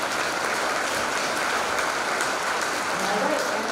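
A middle school spring concert audience claps for the teachers, a steady wash of applause filling the room at even loudness throughout.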